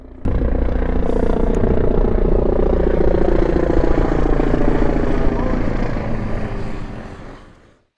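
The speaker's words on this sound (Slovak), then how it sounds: "policajná helikoptéra nám troška pokazila plány, keďže nás intenzívne sledovala" A police helicopter flies overhead in Slovakia during a motorcycle ride, a loud continuous rotor and engine drone that holds steady, then fades out near the end.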